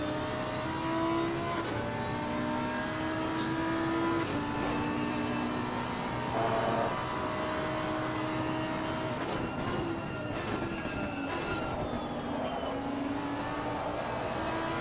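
GT race cars from Assetto Corsa Competizione lap Kyalami, engines droning steadily with rising and falling pitch as several cars pass, a continuous loud mechanical roar throughout.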